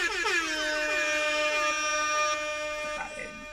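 A classic DJ air horn sample from Virtual DJ's sampler blasts in rapid repeated stuttering honks that smooth into a sustained bright horn tone, loud and dry before cutting off.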